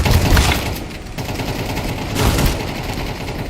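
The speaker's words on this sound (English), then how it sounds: "I'm throwing a flashbang." A flashbang grenade goes off in a video game amid loud, dense bursts of gunfire and blasts, with two heavier swells of noise over a constant crackling barrage.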